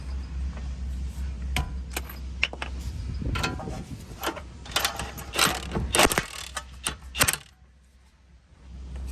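A tie rod end on a Mercedes C230 W203 is turned onto the steering rack by hand, giving a string of close, sharp metallic clicks and clinks with a short quiet stretch near the end.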